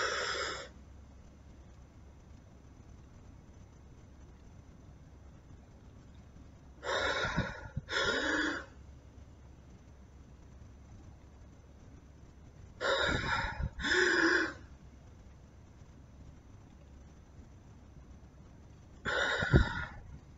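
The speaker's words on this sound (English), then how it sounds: "taking a deep breath in and holding for about 3 to 4, 5 seconds if possible" Three or four separate deep breaths are drawn in, each a short loud gasping inhale, with long stretches of quiet between them while the breath is held.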